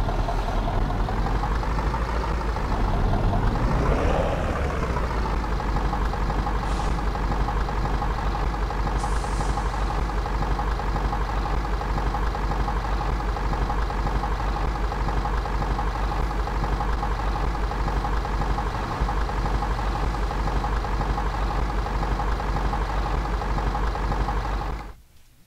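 A MAZ 504 B truck drives in Euro Truck Simulator 2, its engine droning loud and steady throughout, with a rising rev early on and brief hissing bursts, then cutting off at the end.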